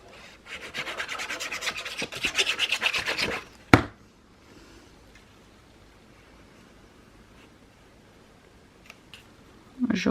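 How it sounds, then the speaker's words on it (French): Paper for a Stamperia Lavender scrapbook album is cut close by, heard as a few seconds of rapid rasping strokes that end in a sharp snip, followed by near silence and a faint rustle. "Du coup, je coupe là."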